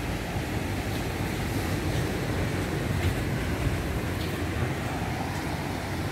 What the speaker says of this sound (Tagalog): Medyo maalon niya yung dagat ah.